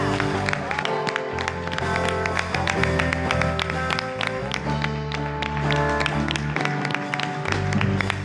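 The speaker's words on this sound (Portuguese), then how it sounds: "Dá uma salva de palmas a Jesus" A congregation at an evening church service claps in dense, continuous applause over music, holding a steady level throughout.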